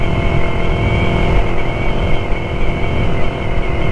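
A Yamaha MT-03 motorcycle with an aftermarket exhaust drones steadily while riding, a loud sustained engine note with slight surges and road rumble, close to the mic.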